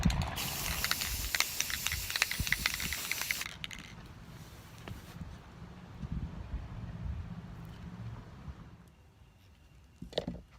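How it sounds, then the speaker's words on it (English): A loud, steady hiss of clear coat sprayed from an aerosol can onto a cigar box guitar dominates the first few seconds, then cuts off, leaving faint background noise and a short bump near the end. "And now I'm spraying it with this clear so that it's shiny like the box."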